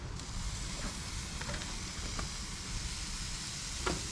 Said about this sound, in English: Love that sound it makes when it sizzles.